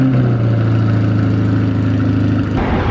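A C8 Corvette engine idles close up with a steady low rumble, then shifts slightly near the end.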